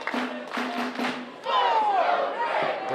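Wrestling arena crowd chanting in rhythmic bursts, then swelling into louder cheering and yelling around the people's champion, a dense mass of voices filling the hall.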